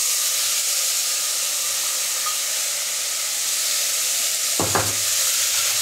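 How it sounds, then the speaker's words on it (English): Peaches cook down in a pan for a paleo peach BBQ sauce, giving a constant broad sizzle and hiss with a single brief knock of a utensil near the end. "we are first going to cook the peaches down"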